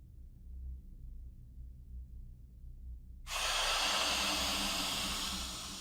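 Steam in the Zero Time Dilemma video game hisses on abruptly after a quiet low rumble, a loud, broad, continuous spray that holds steady and eases slightly at the end.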